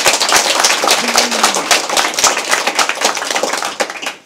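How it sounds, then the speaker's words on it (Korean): Lecture audience clapping together in honor of a lecturer's seventieth birthday, a loud, dense burst of hands close by that carries on for several seconds, with a brief tonal murmur partway through. "선생님 건강을 생각하면서 우리 박수 한번 칠까요?"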